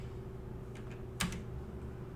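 A few quiet keystrokes on a computer keyboard while a chat message is typed, soft taps followed by one sharper key press, under a steady low hum with no talking.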